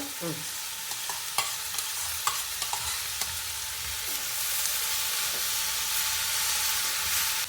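Potatoes are added to a vegetable curry cooked without onion or garlic and stirred in a hot pan, with a few sharp scraping knocks over a close, steady sizzle that swells into a fuller hiss of frying.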